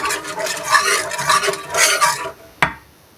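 A utensil continuously stirring nababi shemai mixture in a pan, a scraping, swishing rhythm close up for two seconds, ending with one sharp clink against the pan.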